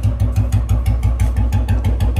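A motorcycle engine, apparently a Bullet, idles loud and close with a steady thumping beat and mechanical clatter throughout.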